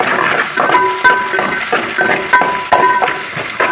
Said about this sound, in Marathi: ह्याच्यामध्ये आपल्याला कांदा पहिला टाकायचा आहे. तो थोडा लाल करून घ्यायचा आहे.